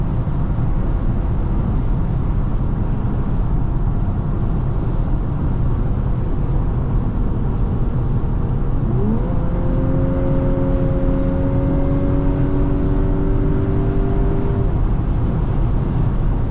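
A 2024 VW Atlas Cross Sport SEL Premium R-Line accelerates hard during a test run, its engine droning loud and steady under heavy road roar, with a gear change shifting the pitch partway through.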